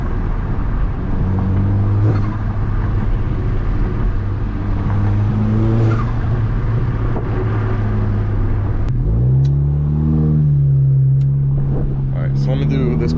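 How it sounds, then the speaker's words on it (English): Turbocharged Audi A4/A5 accelerating from inside the car: a steady engine drone rises, then a sharp blow-off valve release lets go, followed by more engine hum and light clicks and chirps. "that's what the blow-off valve sounds like"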